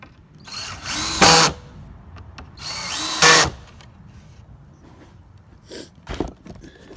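A power drill whirs in two short bursts, each ending in a sharp high whine, followed by a couple of brief quieter spins.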